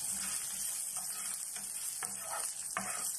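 Garlic frying in a hot pan, crackling in a constant bright sizzle, with a few scraping stirs of a utensil breaking through at intervals.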